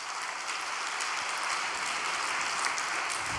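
An audience at a Korean overnight prayer gathering claps steadily, a dense, continuous applause heard at moderate distance with no talk over it.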